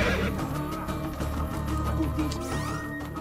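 A horse in Assassin's Creed Brotherhood whinnies with a drawn-out, wavering call over a busy game soundscape, the neigh rising clearly near the end amid faint hoof clatter.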